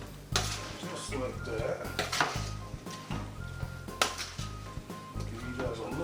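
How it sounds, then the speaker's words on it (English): A pretty big spoon stirs chitterlings in a pot, scraping and clinking against the metal in a repeated rhythm, close and fairly loud, with a brief spoken remark over it. "Let me pull out my pretty big spoon. I'm gonna give this a stir."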